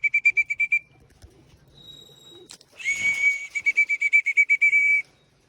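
Pigeons at their loft during a morning flight, heard as rapid, bright whistling pulses in quick rhythmic bursts, with a brief flutter of wings and rustling between the sequences.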